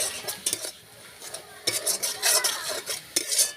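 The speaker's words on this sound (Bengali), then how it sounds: "এবারে মশলাটা ভালো করে কষে নেব" Spice paste with cumin and coriander powder is stirred and sautéed in a pan for a Bengali aloo dum, producing repeated close scraping strokes of a spatula against metal over a light sizzle, rhythmic and fairly loud, without talk.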